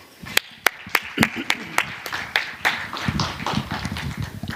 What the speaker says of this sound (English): please join me in giving a round of applause for this panel